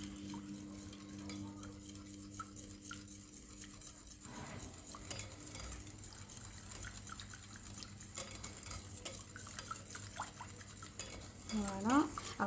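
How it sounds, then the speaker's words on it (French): Cannelé batter being stirred in a bowl, a soft steady scraping and swishing of a utensil against the bowl, close and fairly quiet, running throughout with faint background noise. "Je vais tout mélanger ça."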